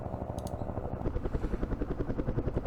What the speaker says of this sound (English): that is going to be a good opportunity to bring in some helicopter support.